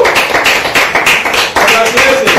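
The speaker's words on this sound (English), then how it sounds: "Claire, can you clap for this?" Clapping from a person on a talk show, a loud, rhythmic run of distinct hand claps close to the microphone, mixed with speech and laughter.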